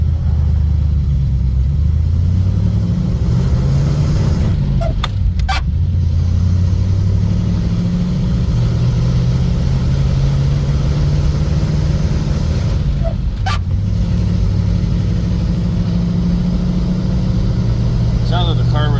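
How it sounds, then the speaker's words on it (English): A 1951 Mercury with straight pipes, heard from inside the car as it rolls through the gears, a loud, deep, steady exhaust drone with pitch rising and dropping at shifts, while a person talks. "I was going to show you what it sounds like from the inside with the straight pipes."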